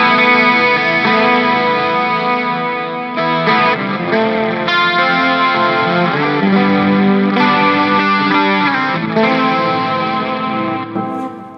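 An electric guitar through a Mesa Triaxis rack preamp on its Lead 1 channel with high gain, driving a Mesa 2:Ninety power amp, plays a loud, continuous distorted lead phrase with sustained notes, alone.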